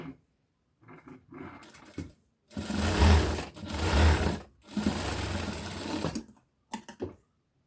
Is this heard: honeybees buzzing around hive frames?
no